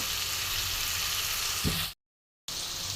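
Small fish with potato and papaya frying in a pan, giving a steady close sizzle throughout with one brief knock, then a short silent gap before the sizzle resumes.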